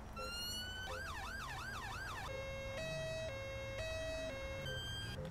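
A police car siren in Grand Theft Auto V, heard close and loud as it cycles through patterns: a steady rising tone, a fast wavering wail, then a two-tone alternating hi-lo, over a low engine rumble.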